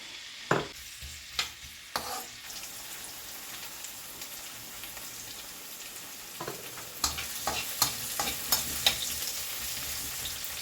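Oil heating in a wok with onions going in, a steady soft sizzle with sharp stirring clatters near the start and a busier cluster of scraping hits toward the end, no voices.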